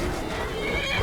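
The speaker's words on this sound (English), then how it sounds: "Seriously, why is there bear and horse fighting noises?" A horse whinnies in the video game Skyrim, a continuous, fairly quiet neigh lasting about a second amid background game ambience, with no voices.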